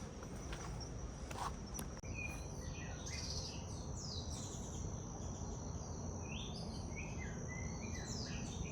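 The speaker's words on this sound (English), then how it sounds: "I love that bird." Birds in a Hawaiian jungle sing and chirp in repeated short phrases over a steady hiss of insects and ambient noise, fairly faint, with a few soft footsteps at the start.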